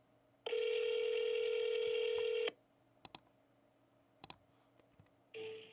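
An outgoing phone call rings out twice with no answer, the long steady ring tone followed by a couple of sharp clicks and a brief second tone, quiet and alone.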